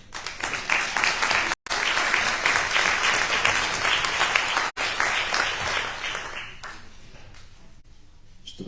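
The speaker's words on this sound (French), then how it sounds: "Et je voudrais qu'on l'applaudisse." Sustained applause from a crowd at a community council New Year's address, dense clapping that carries on for several seconds before tapering off toward the end.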